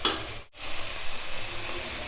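Finely chopped tomato hits hot oil with ginger and garlic for kothu chappathi, giving a loud steady sizzle broken by one brief pause, with stirring throughout.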